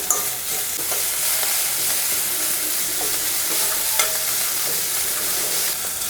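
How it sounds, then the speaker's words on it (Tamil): Chopped medium-sized large onions sauté in a pan for a drumstick thokku, with a bright, continuous sizzle and occasional stirring scrapes, close and alone without any talk. "வெங்காயத்தை 2 நிமிஷம் வதக்கி விடலாங்க."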